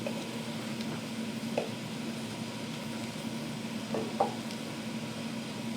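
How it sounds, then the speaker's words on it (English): A flour roux cooks in a pot for New England clam chowder, a steady, faint sizzle throughout with a few soft stirring taps, close by and without talk. "we've added the flour. We're making our roux."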